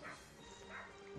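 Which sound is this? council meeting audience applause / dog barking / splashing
dog barking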